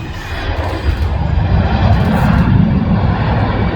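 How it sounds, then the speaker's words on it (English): An EasyJet airliner taking off, a loud, continuous broadband engine roar that holds steady and slightly builds, heard close with no talking. "The two EasyJet is taking off."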